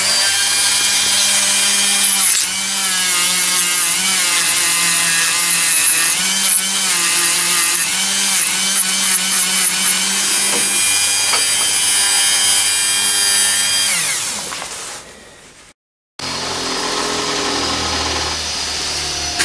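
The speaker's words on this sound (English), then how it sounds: "take off the excess solder, and do it with one of these Dremel stainless steel brushes" Dremel stainless steel wire brush scrubbing excess solder off a small brass push button bracket, a steady loud whirring abrasion running for about fifteen seconds, then stopping briefly before resuming.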